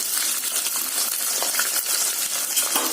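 Dried red chilies, curry leaves, small shallots and garlic sizzle in hot oil in a village kitchen pan, a dense crackling fry with light scraping and clinks from stirring, steady and close, with no talking.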